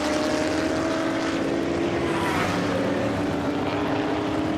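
Historic V8 racing cars from the 1972 Surtees Trophy race sweep past at speed around a circuit, a steady broadband engine roar with a droning tone running continuously, no talk.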